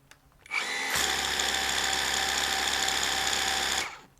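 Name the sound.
Litheli U20 brushless pressure washer spraying with 0-degree nozzle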